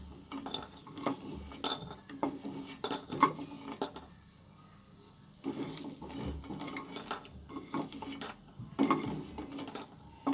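Fried vadis being lifted out of a pan into a bowl while making baingan methi, with clinks and scrapes of utensils against cookware in irregular bursts, a short pause midway, then more clattering.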